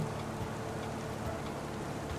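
Rain falls on a plowed field in Farming Simulator 25, a steady, moderate hiss of drops with no pauses and no speech over it.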